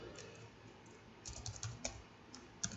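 Computer keyboard typing, a short run of light, close key clicks growing busier toward the end, with no talk.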